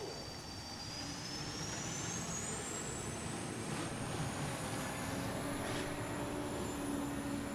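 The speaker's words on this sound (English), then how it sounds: "Now just starting that Lycoming T55 L7C turbine engine" A Lycoming T55 L7C turbine engine on an unlimited hydroplane race boat spools up with a rising turbine whine over a steady broadband roar, heard from a distance at a lake race.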